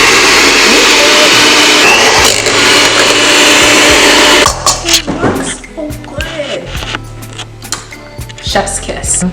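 A hand mixer whirs loudly and steadily through tender birria meat, then cuts off and gives way to scattered clatter and kitchen handling noises, with a voice in the background.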